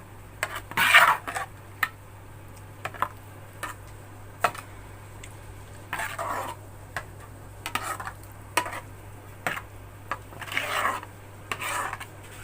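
Custard being mixed in a bowl, with repeated scraping and clinking strokes of a spoon against the dish in irregular bursts over a faint steady hum.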